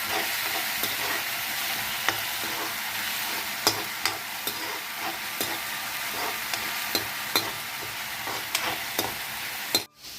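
Onion paste and ginger paste fry in oil for a prawn curry, giving a dense, continuous close sizzle broken by repeated sharp spoon taps and scrapes against the pan, with no voices.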